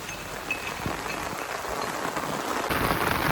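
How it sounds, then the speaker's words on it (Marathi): Heavy rain pours steadily in a village outdoors, a dense, even hiss of drops on surfaces that swells slightly louder toward the end, with no voices. "आता मजबूत पाऊस पडतोय."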